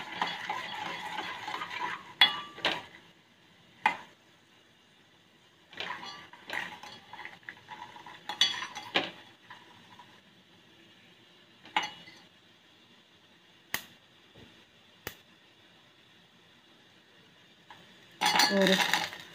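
Peanuts fried in oil in a pan while being stirred for a peanut chutney, heard as scattered scrapes and metallic clinks of a spoon against the pan, in bursts with quiet gaps and a faint sizzle underneath.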